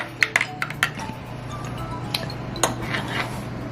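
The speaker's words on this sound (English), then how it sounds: "stir up the cups" Spoons clink against cups while hot cocoa is stirred, a series of sharp close metallic taps and rings spread unevenly over a few seconds with no talking.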